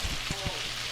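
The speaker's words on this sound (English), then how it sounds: "And just keep on stirring it so that it's not going to burn." Food stirred in a frying pan for corned beef silog, a steady sizzling hiss with a few soft scraping knocks near the start, close and moderately loud, with a faint voice underneath.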